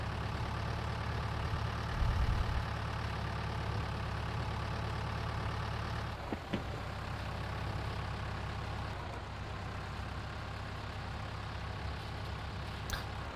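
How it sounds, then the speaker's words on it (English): A tractor engine drones steadily under PTO load in Farming Simulator 22, a constant heavy low rumble that strains without pause, with a brief clunk partway through. "it seems like any sort of PTO load on this tractor, and it really starts to struggle"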